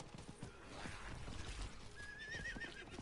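In Diablo 4, a horse gives a bright whinny over a busy, low-level game mix, with soft hoof clatter and rumbling movement underneath, fairly quiet overall.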